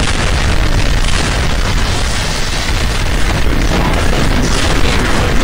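Continuous loud blasts and booming explosions from the shooter game Counter-Strike Online, dense and roaring throughout with no pauses, a chaotic barrage of detonations.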